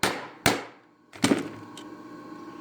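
A hammer strikes a hardened rivet set seated on a 3/16-inch truss head rivet, three sharp metallic hits with ringing decay between them, close and loud with no talking.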